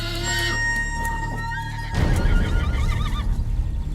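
A horse neighs with a loud rising then wavering whinny, followed by a burst of snorting and stamping noise as it stands on a road in a tense roadside scene.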